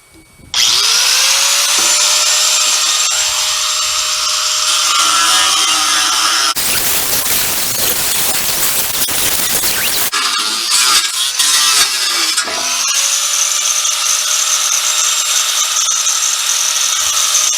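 A power tool cuts a length of metal for a homemade jon boat trailer with a loud, steady whine. The pitch shifts as the cut bites, and a harsher grinding stretch falls midway, close up and continuous.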